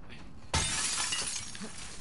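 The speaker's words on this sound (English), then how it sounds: "Break glass." Glass shatters in The Last of Us Part II, a sudden loud crash followed by a bright tinkling spray of falling shards that continues for over a second.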